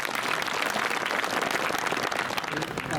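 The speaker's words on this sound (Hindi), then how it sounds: "इसके लिए देश के प्रधानमंत्री और गृह मंत्री जी के लिए जोरदार ताली बजा रहे।" A large crowd at a political rally near the India–Pakistan border claps loudly and continuously, forming a dense, even wall of applause with no pauses.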